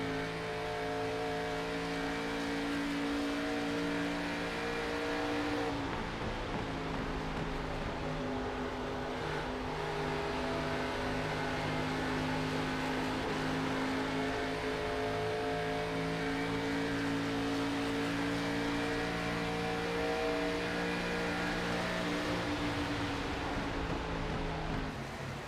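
Race cars in a Midwest Winston Cup Series race roaring continuously, engines droning and revving together at steady loud volume, with no talk over them.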